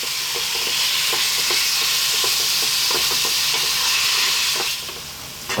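Freshly ground lean beef sizzles loudly in a pan over medium heat, a dense continuous hiss punctuated by repeated scraping stirs, with no talking, easing slightly at the end.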